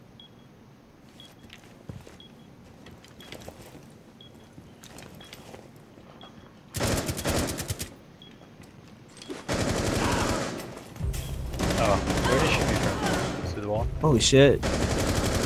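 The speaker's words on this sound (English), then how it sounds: "he shot me through that wall" Automatic gunfire rattles in Rainbow Six Siege during a team deathmatch on the Outback map, quiet at first, then long loud bursts of fire, with players talking over it.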